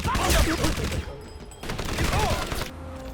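Video game gunfire from Crysis comes as a quick burst of sharp shots, loud and close. It is mixed with game effects and voices talking.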